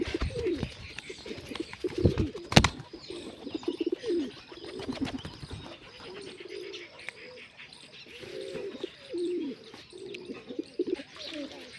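Pigeons coo repeatedly in soft, throaty bursts, with chirping insects and other bird calls in the background and a sharp knock partway through; moderately near, no talking.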